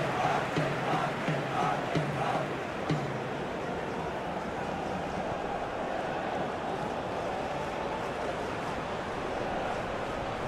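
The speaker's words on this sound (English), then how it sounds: "the crowd aren't happy" Stadium crowd noise from a PES football video game, an Asian Cup match between Japan and Indonesia, a steady loud roar of disgruntled fans filling the whole stretch with a few brief swells early on.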